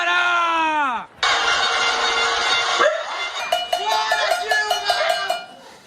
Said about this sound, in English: People were banging their pots,